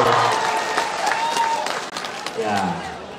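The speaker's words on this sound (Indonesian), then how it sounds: "Tepuk tangan dulu, lihat tepuk tangan dulu." An audience at a student forum with Anies claps and cheers as a crowd, with a voice speaking over the noise partway through.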